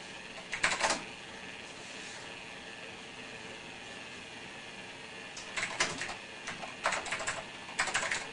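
Fingers type on an old computer keyboard at an MS-DOS command prompt. Short bursts of clacky keystrokes come near the start and again in the second half, with quiet gaps between them.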